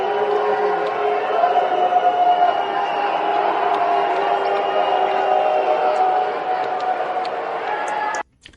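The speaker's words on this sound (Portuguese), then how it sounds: "tá todo mundo xingando o cara, todo mundo vaiando o cara" Large political rally crowd booing and jeering, a dense continuous roar of many voices filling the space at steady loudness before cutting off abruptly near the end.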